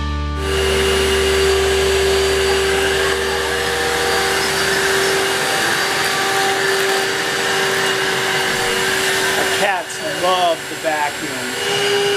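A household vacuum cleaner runs steadily, a loud, continuous droning whine close by that holds for several seconds before brief voices cut in near the end.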